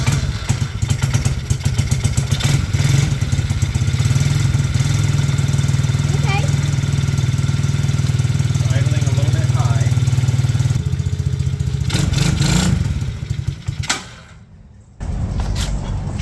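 A motorcycle engine, started with the fuel on and the choke set and running rich, runs steadily and loud for about eleven seconds at close range, then dies out and catches again.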